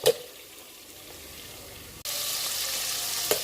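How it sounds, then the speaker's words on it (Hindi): Finely chopped onions frying in a cooking pot: a steady, soft sizzle that turns louder and brighter halfway through, with a light clink near the start and end. "दूसरा प्याज मैं बारीक काट के ये मैंने देचकी में डाल दिया है। अब इसे मैं गोल्डन करूँगी"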